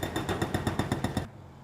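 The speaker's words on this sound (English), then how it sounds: "You get the jackhammer," Jackhammer pounding at a building demolition site, about nine rapid, evenly spaced loud hammer bursts close by, then stopping abruptly into quiet background noise.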